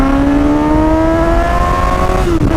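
Suzuki GSX-S750 motorcycle with a 114-horsepower four-cylinder engine revving up close, a steady rising engine note held loud for a couple of seconds before dropping off at the end, with no talking.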